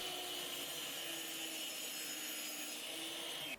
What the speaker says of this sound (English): I switched to my miter saw to cut it to 10 3/4 inches.